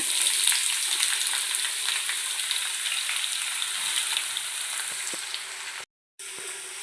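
Sliced onions fry in hot sunflower oil in a pan, giving a loud, steady sizzle that runs throughout with a brief cut-out near the end; no one talks.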